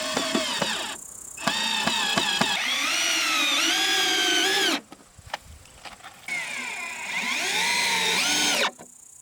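Cordless power drill driving self-tapping screws into boards while tables are assembled, with two long rising whirring runs and short stuttering bursts between, close and loud, separated by quiet gaps with faint clicks.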